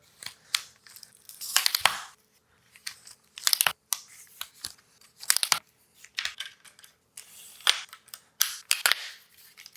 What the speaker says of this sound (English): I'll just go ahead and fold this on up just so you can see how quickly this can be done